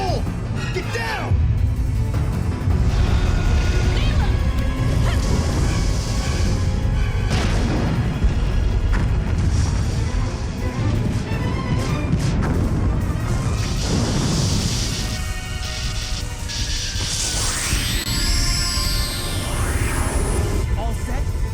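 Explosion in the Dino Crisis video game as the characters leave the island, heavy booming crashes and rumbling debris filling the scene with music, followed by rising whistling tones.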